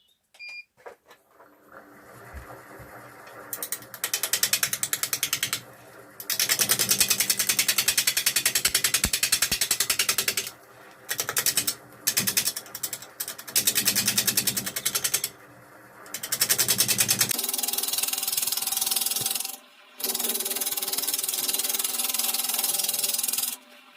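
Woodturning lathe cutting an ash bowl blank with resin fill, facing and rounding it off: loud, harsh scraping bursts from the tool on the spinning wood, starting and stopping repeatedly with short gaps between passes.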